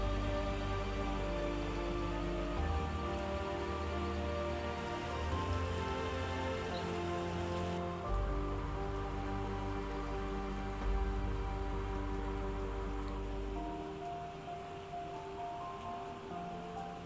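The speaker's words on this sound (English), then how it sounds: "the jungle rains were constant" Steady jungle rain drumming on a shelter in the Ecuadorian rainforest, a dense continuous patter with a low rumble underneath, heard close and alone for the whole stretch.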